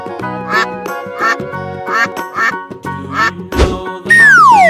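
A cartoonish duck in an animal-painting video game quacks in several short, loud, evenly spaced calls, followed by a sliding whistle-like game effect at the end.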